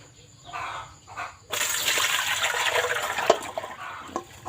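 Water is poured off bamboo shoots being rinsed for Thai fermented bamboo shoot (som no mai), a steady close splashing gush that begins abruptly and continues to the end, after a quieter opening with faint voices.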